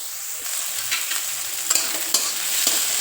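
Chopped onion sautéing in a pan toward golden brown, a loud continuous close hiss of frying with repeated scraping stirs and small clicks of a spatula, no voices.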